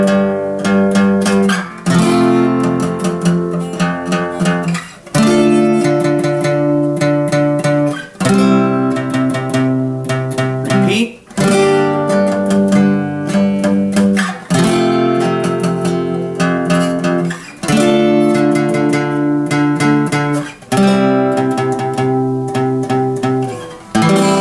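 Strummed acoustic guitar chords for the opening of a song, played loud and steady in a repeating rhythmic pattern that follows the drum part, with brief pauses between phrases and no talking.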